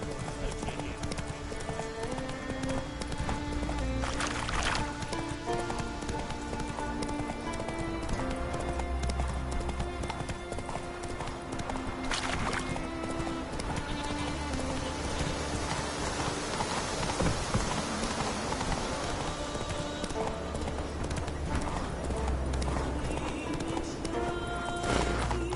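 Roach the horse gallops with steady, close hoofbeats through The Witcher 3, the rhythm continuing throughout over constant rain and ambient game music.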